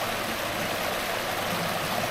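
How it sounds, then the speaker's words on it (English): A river runs over rocks along a wooded trail in Durham, North Carolina, making a constant close-up rush of water with no pauses. "So relaxing hearing this water run over these stones."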